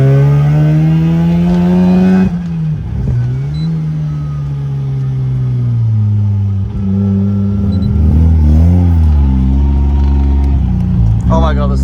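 A rotary-engined BMW E36 with no power steering drives along, its engine droning loud and close with steady harmonic tone that shifts pitch as it revs and eases off, with a person talking over it.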